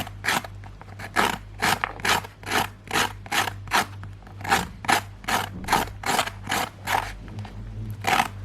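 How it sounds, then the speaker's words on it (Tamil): A knife scraping the fibrous ridges off a ridge gourd in steady, rhythmic rasping strokes, about two per second, loud and close with a low hum underneath. "அந்த நரம்பை நம்ம சுரண்டி எடுத்துடலாம்"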